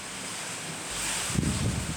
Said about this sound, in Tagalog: Sa laga ng hangin